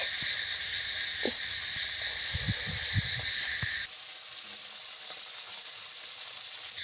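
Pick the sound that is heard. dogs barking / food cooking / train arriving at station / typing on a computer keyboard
food cooking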